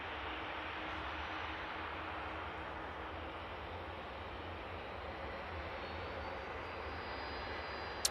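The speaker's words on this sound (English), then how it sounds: "And here comes that 2 Dreamliner" A Boeing 787 Dreamliner jet arrives at Manchester Airport as a steady, fairly faint broadband roar that holds evenly throughout with no voices over it.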